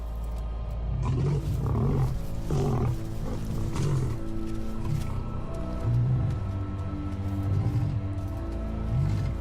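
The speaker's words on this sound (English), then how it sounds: "The pride male roars his final warning." A male lion, head of a pride, roars repeatedly in a series of deep, loud, rhythmic bursts close by, with low grunting pulses between them and no speech.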